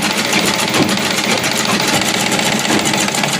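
A sewing machine stitches elastic into a pajama waistband with a steady, loud, close motor whir and a fast rhythmic needle chatter running unbroken throughout.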